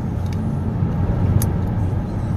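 A car rolls past nearby on a road beside a large greenhouse complex in Westland, a steady low rumble of engine and tyres with a brief squeak partway through, no talk.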